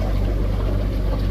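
A boat engine drones steadily and close by during a fishing outing, a low, even rumbling hum with no voices over it.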